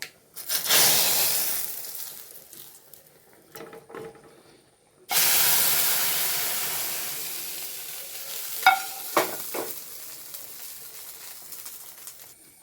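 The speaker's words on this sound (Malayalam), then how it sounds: "കടുക് പൊട്ടിക്കുന്നു ഇതിലേക്ക് ഒഴിച്ചു കൊടുക്കാം കേട്ടോ" Hot oil hisses and sputters loudly as mustard seeds are poured in, fading, then a second burst of crackling sizzle with a few sharp pops.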